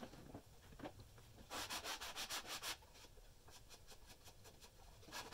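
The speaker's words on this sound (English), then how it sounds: "I pretty much just sand down the groove I cut, make sure everything was smooth" Sandpaper rubbed by hand along a cut groove in a wooden hexagon dresser, a soft steady scratching that turns into about eight quick, louder rhythmic strokes mid-way, then settles back to quiet rubbing.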